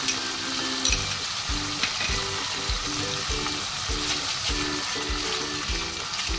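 Spice paste (masala) sizzles hard in hot oil with whisked sour yogurt, a continuous crackling fry broken by repeated scraping stirs across the pan.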